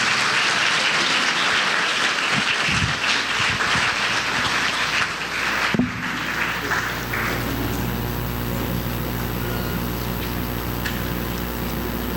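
Congregation applauding during a Sunday evening church service, a dense wash of clapping for the first six seconds that then drops away into quieter room sound and a low sustained hum.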